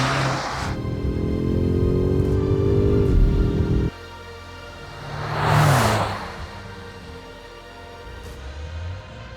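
A BMW M5 Touring G99 wagon drives past with a loud, steady engine note that rises in pitch, cuts off abruptly, then a swell of road and wind noise sweeps by as the car passes and fades.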